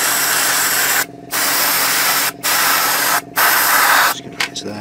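Airbrush paint spraying onto a 1/35 scale Takom British Chieftain Mk 10 model tank, a steady close hiss in four long bursts separated by short pauses, ending in a few quick stuttering puffs.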